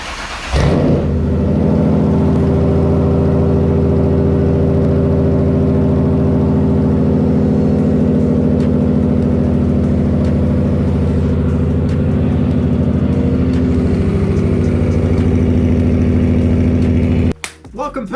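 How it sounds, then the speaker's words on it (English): Ford Mustang engine firing up from cold, a loud opening burst settling into a steady, deep rumbling idle that holds for most of the stretch before cutting off abruptly near the end. "been a while since I've done a cold start."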